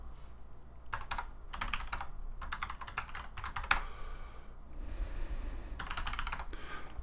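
Computer keyboard typed on at close range, producing quick bursts of clicking keystrokes separated by short pauses, with no voices over the clatter.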